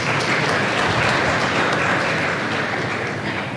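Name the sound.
applause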